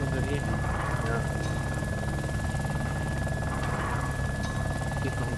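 Helicopter engine in the survival video game DayZ, a steady low rotor drone running continuously throughout, with voices talking over it.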